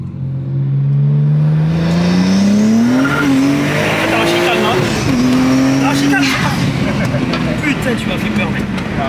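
A tuned 600 hp BMW 135i E82 accelerates hard through a U-turn, its engine note climbing loudly in several rising pulls with tire noise, while people talk inside the car.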